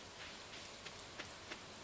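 Steady rain falls by a river, a dense, even hiss with a few sharper drop taps standing out, fairly quiet and with no voices.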